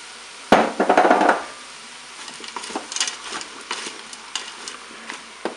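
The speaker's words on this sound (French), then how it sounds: "Je vais maintenant ajouter mes pommes de terre" Potatoes and green beans tip into a Cookeo multicooker pot with a brief clattering burst, followed by lighter, scattered scraping and knocking as a utensil stirs the vegetables.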